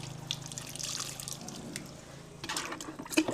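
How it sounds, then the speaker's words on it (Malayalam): About two litres of water are poured into a container over kitchen waste, giving a soft, fairly faint splashing and trickle with a few drips, close by and without speech. "പാത്രത്തിലേക്ക് ഇട്ടിട്ട് 2 ലിറ്റർ വെള്ളം മേലെ ഒഴിക്കുക"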